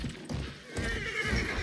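A horse neighs in the Battlefield 1 video game, a moderately faint whinny mixed with hoof clatter and the game's battle ambience, without speech.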